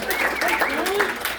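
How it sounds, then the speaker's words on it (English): Applause at a stand-up comedy show in Little Rock rolls on steadily while a voice talks over it close up. "can I get another round of applause for our troops?"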